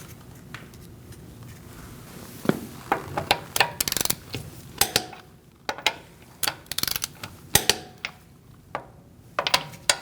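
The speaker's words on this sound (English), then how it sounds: "We're going to torque our wheel to 96 foot-pounds." A torque wrench tightens the wheel lug nuts on a 2008-2014 Mercedes-Benz C300 to 96 foot-pounds in a star pattern. Close, sharp clicks and metallic clatter come in irregular clusters over a low garage hum, with no talking.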